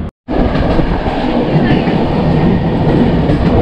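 The 12304 Purba Express passenger train from Delhi to Howrah running, a loud steady rumble and rattle of wheels on track heard from aboard after a brief silent gap at the start.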